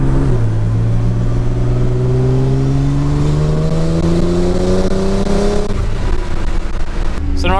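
A modded Nissan GTR drives past with its engine note climbing steadily in pitch as it accelerates through the gears, loud and close, a short shift or dip near the end, with no voices over it.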